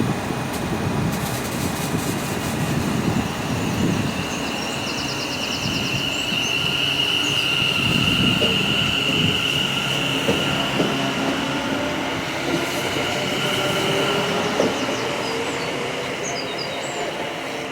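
A Class 730 train rumbles steadily into a station, wheels squealing in a long high whine over clattering, continuous rail noise, close and loud.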